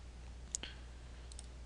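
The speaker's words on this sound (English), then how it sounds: "using the knife tool, we're just going to click" A few soft, close computer mouse clicks tap faintly over a quiet background hum, spaced irregularly across the short stretch.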